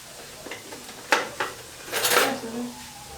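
A blunt, machete-like knife chops onion on a kitchen board in Guatemala while pierogi filling is prepared, giving a few sharp, close knocks and clatters and then a short burst of scraping and clinking, with no talk.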